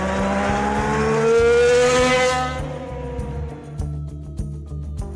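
A Toro Rosso STR9 Formula 1 race car screams past at high revs, its engine note rising loud and close before pitching down and fading away into the distance, with no voices.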